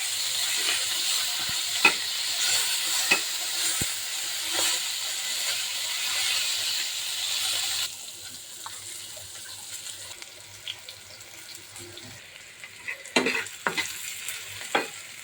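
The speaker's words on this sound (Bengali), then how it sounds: "এখন পটল আর ইলিশ মাছ ভাজা বসিয়ে দেবো।" Pointed gourd and hilsa fish frying in a pan, a steady close sizzle with occasional stirring clinks and scrapes; the hiss drops quieter about halfway through, followed by a few sharper utensil knocks.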